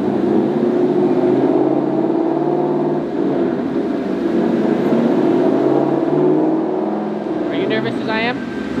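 A 2021 Ford Mustang GT with a tune roars steadily on a chassis dyno, its loud sustained engine note rising and falling through the pull, with a brief whine near the end.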